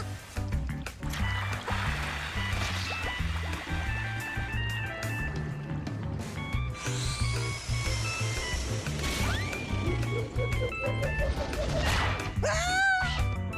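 Water splashes and sloshes in a cartoon scene, with repeated wet bursts and clattering impacts over busy music and sound effects, fairly loud and continuous throughout.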